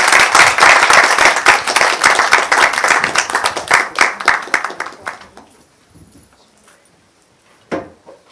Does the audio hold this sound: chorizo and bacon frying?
no